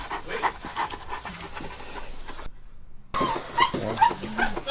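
A dog panting nearby, steady quick breathy huffs continuing throughout with a brief cut partway through, loud and close, with no talking.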